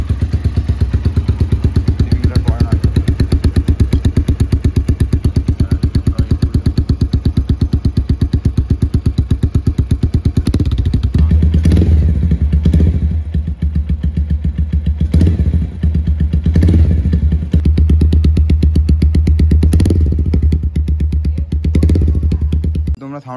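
Fully modified motorcycle engine starting and running, a loud continuous low rumble and throb that settles into a steady idle with periodic thuds and revs toward the end.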